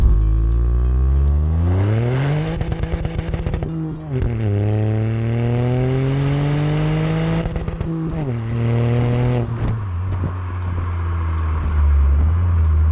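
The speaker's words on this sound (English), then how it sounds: "first impression of this exhaust and the notes that comes out the back of it, because this is a 3-cylinder engine" A modified MK8 Ford Fiesta ST with a 3-cylinder engine revs hard, its exhaust note rising and falling through several throttle blips and gear changes, loud and close throughout.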